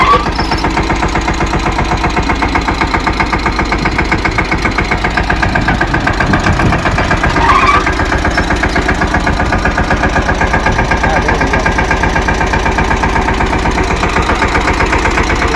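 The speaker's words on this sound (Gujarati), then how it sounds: "હાલો તમને ટ્રેક્ટર ચાલુ કરીને દેખાડી" A tractor engine idles steadily with a rapid, even mechanical chug that stays loud and continuous throughout, close by, with no voices over it.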